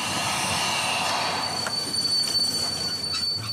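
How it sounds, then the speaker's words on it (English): High, steady squeal of train wheels as a Congo railway train slows down, a piercing metallic whine held over low rumbling rolling stock, close and continuous. "Once again, the train begins to slow down."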